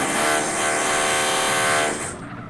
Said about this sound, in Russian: Ты слышишь, какой выхлоп у нее?